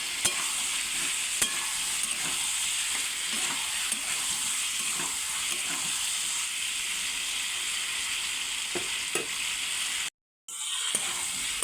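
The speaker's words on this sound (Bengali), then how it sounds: "এবার মশলার সাথে ভালো করে আলু পটল কষে নেব।" Fried potatoes and pointed gourd stir-fried in spice paste in a pan give a steady, close sizzle and frying hiss that runs continuously, with a few scraping stirs and one brief drop near the end.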